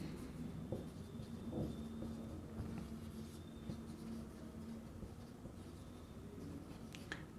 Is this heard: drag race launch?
no